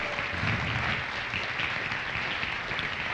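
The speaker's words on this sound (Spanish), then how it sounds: "Dame un aplauso fuerte al Señor." A church congregation applauds steadily for a few seconds, a dense, even wash of many hands clapping at moderate loudness with no voices standing out.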